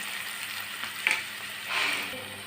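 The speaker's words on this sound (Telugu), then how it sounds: "తాలింపు వేగిపోయింది కదండి ఆనియన్ వేసుకున్నాము" Onions sizzle and fry in hot tempering oil for a mixed vegetable curry, a steady close crackle with a brief stirring clatter and a swell of sizzle near the end.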